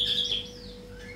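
A white-rumped shama (murai batu) chirps with a few bright, high, brief notes, clearest at the start of the clip, over a steady low background hum.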